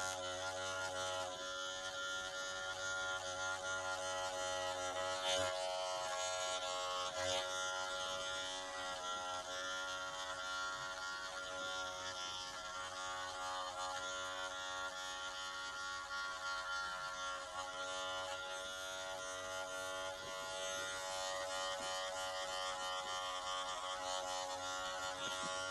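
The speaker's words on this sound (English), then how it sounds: "close my lever all the way on my magic clip, and we're going to take off the little flyaways off the top" A Wahl Magic Clip hair clipper buzzes steadily and close at hand with its lever fully closed, humming without a break as it trims flyaways on top of a head during a barber competition cut.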